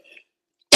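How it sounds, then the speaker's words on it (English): A single sharp cough bursts out close to the microphone after near silence, short and loud with a rough, breathy texture. "Sorry for my cough."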